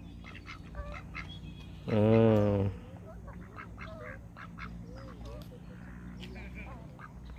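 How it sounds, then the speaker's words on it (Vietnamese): Wild ducks on a hillside give a loud burst of honking quacks that stands out for under a second against a steady outdoor background, while someone speaks briefly nearby. "Vịt trời bên đây các bạn thấy nó dạng không?"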